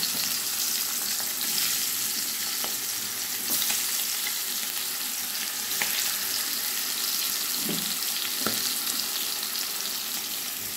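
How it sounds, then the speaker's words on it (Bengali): Fish frying in hot mustard oil in a pan, a steady close sizzle and crackle with occasional pops and stirring or turning knocks. "তেল গরম হয়ে গেছে, এবার আমি মাছগুলো ভেজে নেব।"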